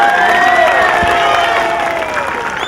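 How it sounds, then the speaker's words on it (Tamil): A radio station's anniversary crowd breaks into loud, sustained applause and cheering, close and dense with shouts and whistles rising over the clapping. "நல்ல பலத்த கரகோஷத்தோட."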